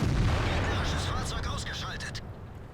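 A KV-3 tank cannon fires in World of Tanks: one loud, heavy boom at the start that rolls off into a fading rumble, with someone talking over it.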